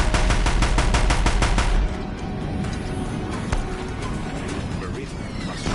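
Deathbringer machines in Horizon Zero Dawn fire in rapid, loud machine-gun bursts, with a dense rattling volley at first that gives way to scattered shots and mechanical clatter, while a voice talks over the din.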